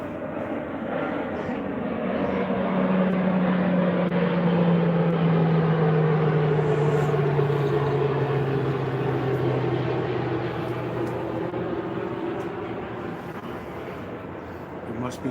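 An airplane passes overhead at night in the city, a steady rumbling drone that builds, peaks near the middle and slowly drifts lower in pitch as it recedes, with faint background noise around it.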